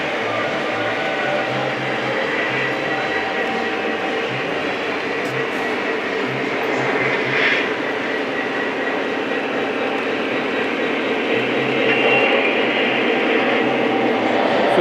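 Model SD40-2 locomotive running on a club layout, a continuous rolling rumble with faint clicking from the track, steady throughout, with voices in the room.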